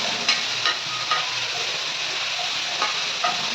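Tomatoes frying slowly in a pan for chutney, a steady, even sizzle and hiss close by with a few light taps of a stirring spoon now and then, no talking.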